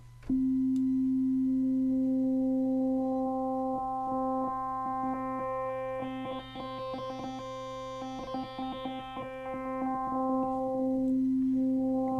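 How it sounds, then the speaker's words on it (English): A steady FM synth tone holds while its modulation index rises, harmonics fanning out and growing brighter, then thin back down to the plain pitch; no voices. "We will hear the modulation index increase."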